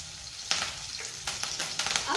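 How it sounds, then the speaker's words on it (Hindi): Red chilli, green chilli and ginger frying in oil in a pan for chilli soybean, a soft sizzle broken by a few crisp spatula clicks and scrapes, close and fairly quiet with no talk. "इसे अच्छी तरीके से हमें होने देना है, पकाना नहीं है, सिर्फ फ्राई होने देना है इसे"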